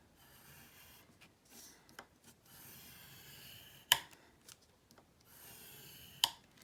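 Paper is scored on a scoring board for a Stamperia Voyages mini album, giving short scraping, rasping strokes with pauses and two sharp clicks, close and quiet with no speech.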